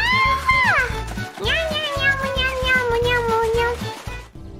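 A voice imitates a cat's meow, giving a drawn-out, expressive "nyah" that rises and falls in pitch, with a second longer mewing call following, close and clear over faint background noise.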